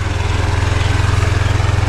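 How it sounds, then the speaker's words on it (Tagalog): A brand-new motorcycle belonging to Kuya Boy, idling steadily close by with a deep, even low-pitched pulse, alone without talk. "Bagong bago ang motor ng Kuya Boy"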